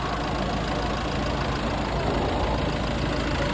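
Citroen Dispatch van engine idling with the bonnet open, a steady, loud, unbroken mechanical rumble and hiss that holds the same level throughout with no talking.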